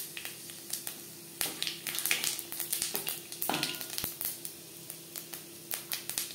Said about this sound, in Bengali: মাছ ভেজে নেওয়া কড়াইতে আবারও তেল দিয়েছি। ফোড়নে দিয়ে দিলাম পাঁচফোড়ন।